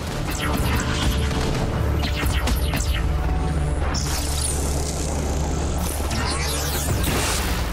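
Missile explosions in Infamous Second Son, dense booming blasts and crashes layered over a constant rumbling game soundscape, loud and sustained with repeated impacts.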